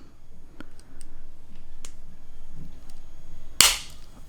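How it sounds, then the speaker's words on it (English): Plastic backing plate of a BMW 4 Series F32 435i key fob pressed into place: faint small ticks, then one sharp, close snap as it clicks in near the end. "Then you could press in these 2 notches and it'll click in."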